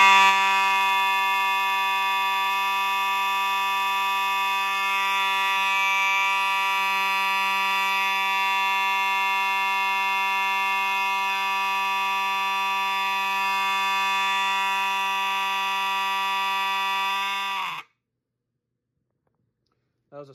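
A Gentex fire alarm horn, new in the box, blares a loud, continuous buzzing electronic tone for about eighteen seconds, then cuts off abruptly into silence, followed by a faint click.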